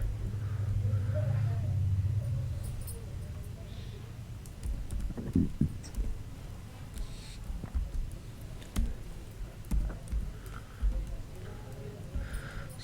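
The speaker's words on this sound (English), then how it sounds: "and type" Keys on a computer keyboard clack in quick irregular bursts while code is typed, close and fairly quiet, following a stretch of low background hum at the start.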